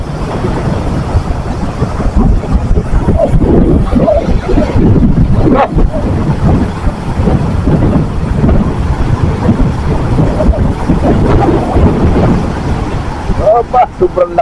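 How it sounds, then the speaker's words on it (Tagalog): Very strong typhoon wind roars and buffets a boat at sea in continuous loud gusts, with rumbling noise and water sounds, and voices faintly under it. "sobrang lakas ng hangin"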